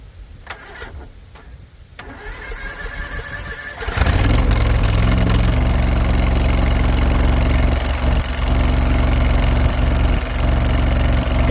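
A CRT23 mini skid steer sits quietly with a few clicks before its engine starts and settles into a loud, steady, close idle as it warms up.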